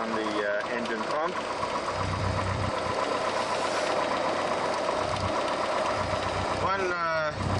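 A Musketeer aircraft's piston engine idles at close range with a steady, even rattling drone throughout, while someone talks over it.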